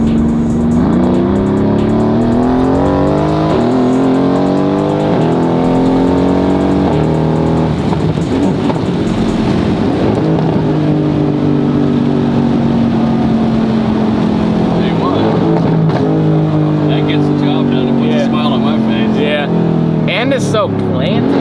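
A straight-piped Ferrari F50 hypercar roars at full throttle, its loud, raw exhaust note climbing steadily through the gears with brief shifts, close and continuous, while people talk over it.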